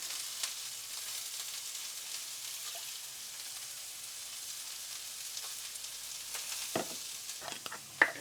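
Food fries on high heat with a soft, steady sizzle, faint and even, broken near the end by a couple of sharper stirring scrapes against the pan.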